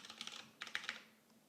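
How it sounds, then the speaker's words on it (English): Keystrokes on a computer keyboard while someone codes, in quick irregular bursts of close, crisp clicks that pause briefly and then fade to near silence. "Your typing is satisfying to watch"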